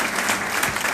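Audience applause at a technical panel on local development and territorial peace: a dense, steady burst of clapping from a crowd, brief and fairly close.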